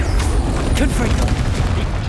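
Explosive Confringo spell going off in Hogwarts Legacy: booming blasts and rumbling debris, loud and continuous, with some speech mixed in.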